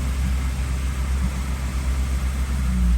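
A Toyota Yaris engine with a starting fault runs close by in a steady, low idling rumble, holding an even tone without any clear cut-off.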